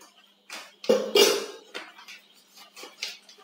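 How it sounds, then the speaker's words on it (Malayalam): A spoon or whisk knocks and scrapes against a bowl while cake batter is mixed with dry ingredients, giving a few loud clinks followed by softer, irregular taps. "നന്നായി മിക്സ് ചെയ്യണം"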